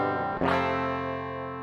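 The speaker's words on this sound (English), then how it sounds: "The direct signal sounds like this." A bass guitar plucked through a direct inject signal with no processing gives one clean, round note that rings out and sustains steadily, close and alone.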